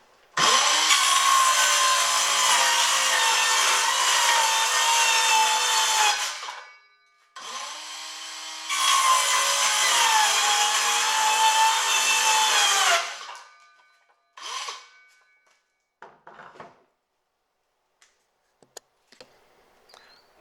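A Bauer circular saw cuts 1/2 inch plywood in two loud, sustained passes of high whining blade noise, with a brief pause between them, then short bursts and faint clatter as the cutting stops.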